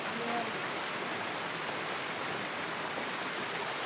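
Mountain stream on the Pacific Crest Trail rushing steadily over rocks, a dense, even wash of water noise that holds without a break.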